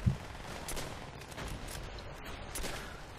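Faint bursts of gunfire from Call of Duty: World at War come as a few short, scattered volleys over a low background. The shots sound distant and quiet.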